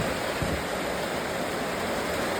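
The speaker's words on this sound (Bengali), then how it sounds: "দেখো ঠিক করে বর্ষা পড়ছে" Heavy monsoon rain falls as a steady, dense, even roar of hissing noise with no pauses and no voices.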